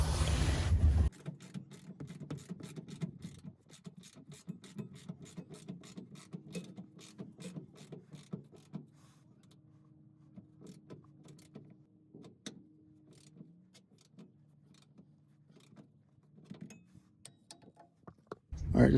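Ratcheting clicks from a wrench tightening the rear shock absorber bolt on a rear-wheel-drive Ford Ranger, a long run of quick, close, evenly spaced clicks with brief pauses, faint mechanical background and no talking.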